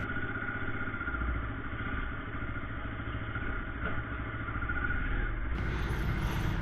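A Bajaj Pulsar RS200 motorcycle engine runs loud and close at a steady idle, its dense low rumble continuing without pause, then revs up sharply near the end. No one speaks.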